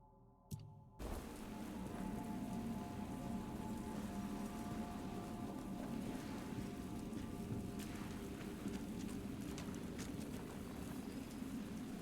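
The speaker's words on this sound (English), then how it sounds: "Summon a burning rain of fire within an area for 12 seconds." A steady, dense hiss of a crackling rain-of-fire spell in Tainted Grail: The Fall of Avalon, loud and continuous, after a brief quiet start with a short tonal blip.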